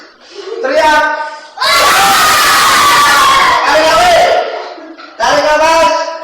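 A group of children shout together on command in a classroom, three loud sustained yells separated by short pauses, with an adult voice giving cues between them.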